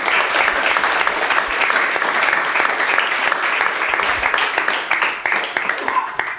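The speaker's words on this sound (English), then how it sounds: "Let's have a big round of applause before we do the results for everyone who has volunteered for them." A live-show audience gives a sustained, loud round of applause for food bank volunteers, dense clapping holding steady throughout with faint crowd noise beneath.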